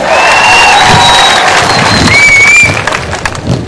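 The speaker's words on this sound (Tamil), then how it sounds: "எங்கே உங்கள் பலமான ஒரு கரகோஷம்" Loud crowd cheering and applause at a public rally in Kattankudy, a large outdoor gathering roaring continuously with whistles and shouts rising above the clapping, easing slightly toward the end.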